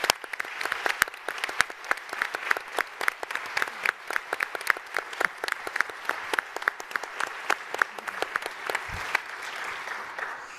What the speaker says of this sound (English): would you mind standing up and getting a round of applause?